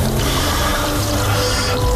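Water poured onto soil in a planting container, a steady, close, continuous wash of liquid with no breaks across the short stretch.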